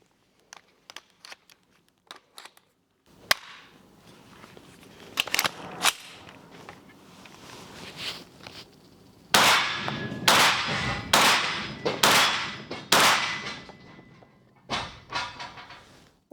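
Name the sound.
gunshots at a shooting range, firing with Vzor-4 laser sight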